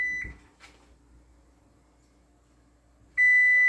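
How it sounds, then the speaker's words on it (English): A kitchen timer, set while tapioca pearls cook, gives a short beep at the start, goes quiet, then sounds a loud sustained electronic tone near the end, close and clear. "I'm gonna turn off my timer"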